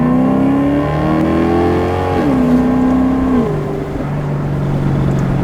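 A Maserati GranTurismo's Ferrari-derived engine revs loud and close, its pitch climbing, stepping through gear changes and dropping back, with a steady exhaust roar throughout and no talking.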